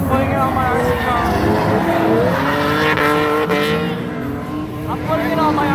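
A gray Nissan S14 drift car at a drifting event, its tires squealing loudly and continuously against a roaring engine, with overlapping screeches rising and falling as it slides along the wall while people talk over it.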